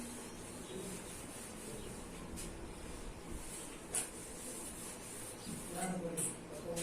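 A board is wiped to clear written working during a class 8 square root maths lesson, faint continuous rubbing with a few soft knocks in a quiet room.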